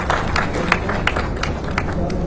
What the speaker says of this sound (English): that deserves a good applause from all of you